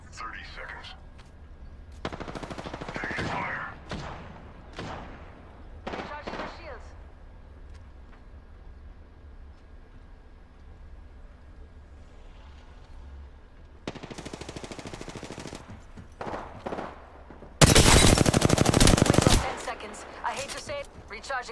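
Automatic weapon fire crackles in Apex Legends combat, several loud bursts spread across the clip, the heaviest near the end, mixed with in-game voice callouts and other game sounds.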